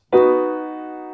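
A major chord struck once, its notes ringing together and slowly fading.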